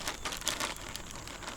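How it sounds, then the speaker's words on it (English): Plastic bag of miscellaneous treestand hunting gear crinkling and rustling as someone rummages through it, a steady close-up scatter of crackles without pause. "I just have a plastic bag with some miscellaneous pieces of gear."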